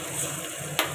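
Garlic tempering sizzles in hot oil as greens are cooked, a steady close crackle with a brief sharper burst near the end; no talk.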